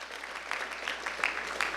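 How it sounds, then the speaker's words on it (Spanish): A church congregation claps together during an evangelical Spanish-language service, a steady bright patter of applause that rises in bursts, with no voices over it. "Denle un fuerte aplauso al Señor,"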